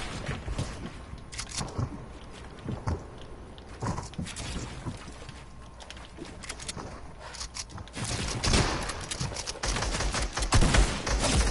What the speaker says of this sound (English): Dude, I'm getting sniped at!